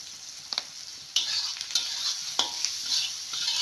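Onions frying with salt in a hot pan for egg fried rice, a steady bright sizzle with a few sharp stirring scrapes and clicks, close and alone without talk.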